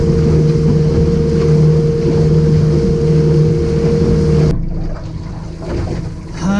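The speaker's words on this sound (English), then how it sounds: "Wind's got up a bit." Wind gusts across a Tasmanian lake while a boat trolls for trout, its steady motor hum blending with the rush of wind before the noise drops and shifts near the end.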